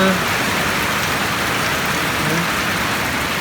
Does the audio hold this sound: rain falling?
yes